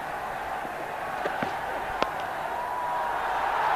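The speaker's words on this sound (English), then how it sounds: "The crowd roar." Cricket stadium crowd at an India versus Pakistan one-day international in Gwalior, a steady broad roar with a few sharp claps or whoops rising out of it, swelling slightly toward the end.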